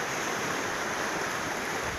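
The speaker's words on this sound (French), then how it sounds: "vous pouvez voir les vagues que forme la rivière" Réal Martin river running in flood near the Cuers bridge, its current churning into waves as a loud, dense, continuous roar of rushing water, close by.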